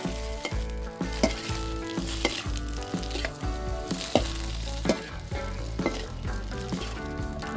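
Marinated pork for rad na sizzles and fries in an oiled pan, stirred steadily with repeated scraping clinks of the utensil against the pan, continuous and close.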